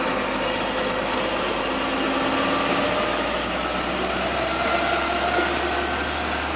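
A JCB Fastrac tractor engine, freshly fitted with a new cylinder head and exhaust manifold, runs steadily and loudly up close, a constant unbroken drone with no voices.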